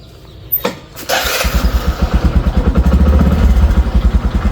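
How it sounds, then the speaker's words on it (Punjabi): A motorcycle is kicked and clatters to life nearby, settling into a loud, rapid, chugging idle that throbs steadily. "ਹੁਣ ਆਪਾਂ ਚੱਲਦੇ ਆਂ ਮੋਟਰਸਾਈਕਲ ਕਰ ਲਈਏ ਸਟਾਰਟ"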